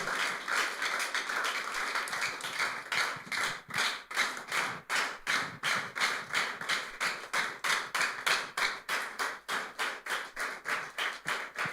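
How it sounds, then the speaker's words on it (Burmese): Church congregation clapping together for the pastor at a Tuesday worship service, a steady run of hand claps that gathers into a rhythmic, unison beat and holds it throughout. "ဆရာကိုလက်ခုပ်တွေချွတ်ချွတ်ကြအောင်"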